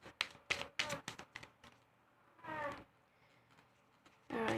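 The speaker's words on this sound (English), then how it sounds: "my cat continuously howling for no apparent reason" A cat lets out a couple of drawn-out yowls close by, among scattered tapping and handling noises.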